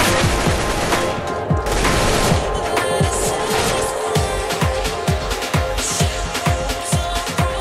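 Rapid bursts of gunfire and sniper shots crackle through a competitive esports shooter match, dense repeated reports close and loud, overlapping with game effects.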